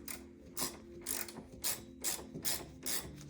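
A Torx key turns a screw with a quiet, repeated ratcheting click, roughly one burst every half second, during a clutch replacement on a phase 1 Citroen C3.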